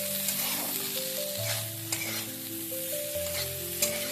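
Spiced hing potatoes being stirred in a hot frying pan, a continuous sizzle with scraping stirs and a few sharp clinks of the spoon, close up while a background melody plays.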